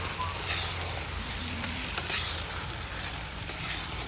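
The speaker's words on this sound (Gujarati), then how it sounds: "ફૂલ તેલ આવી જાય પછી જ નાખવાનું, એટલે આમ ધમકારો બોલી જાય" Onion and chili paste hits hot oil for pav bhaji and sizzles loudly, a dense, steady frying hiss that carries on through the whole stretch with no voices.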